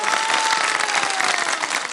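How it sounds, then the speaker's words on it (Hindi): Dense applause from an audience at a children's Ramadan segment, clapping for a child named Shiraz, steady and close throughout with no voices. "शिराज के लिए तालियां बजाएं"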